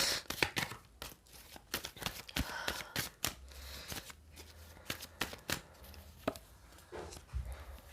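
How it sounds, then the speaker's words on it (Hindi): Tarot cards being shuffled and drawn, a quick series of crisp riffling snaps and flicks, close and fairly faint, in irregular bursts. "तो मैं यहाँ पर 2 कार्ड ले लेती हूँ।"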